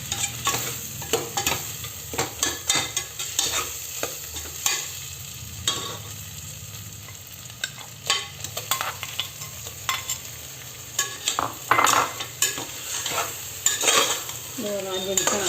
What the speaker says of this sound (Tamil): தக்காளி போட்டு கொஞ்சம் வதக்கணும்